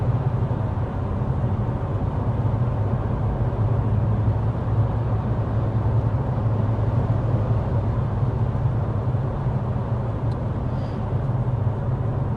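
Steady road and engine drone fills the cabin of a 2024 midsize sedan, Honda Accord or Nissan Altima, cruising at 55 mph, constant and moderately loud with no talk.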